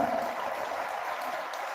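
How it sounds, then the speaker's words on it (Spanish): Crowd applause rises in a lecture hall at an academic conference, a dense, even wash of clapping heard alone for a couple of seconds at moderate distance. "Un fuerte aplauso, por favor"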